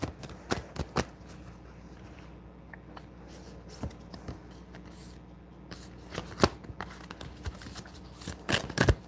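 Tarot cards being shuffled in quick, crisp riffling bursts with short pauses between, close by and fairly quiet.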